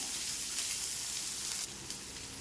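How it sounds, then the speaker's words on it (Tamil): Chopped large onions sizzle steadily in a pan as they sauté, a dense, even frying hiss that drops slightly in level near the end, with no talking. "பெரிய வெங்காயம், கட் பண்ண வெங்காயம் போடுறேன். அதையும் போட்டு நல்லா வதக்குவோம்"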